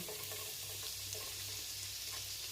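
Garlic frying in plenty of oil for a rice dish topping: a steady soft sizzle and crackle with faint stirring scrapes, close and continuous, no voices.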